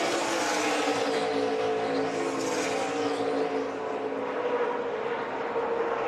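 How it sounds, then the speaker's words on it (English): NASCAR trucks race at Pocono, their engines roaring in a loud, sustained howl with a rising and falling pitch as the pack sweeps past, alone with no commentary over it. "There's the 2 Thor Sport trucks racing along with Eric Jones."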